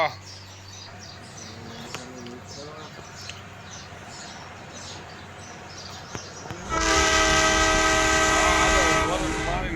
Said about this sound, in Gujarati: ગાડી જાય રિવેશમાં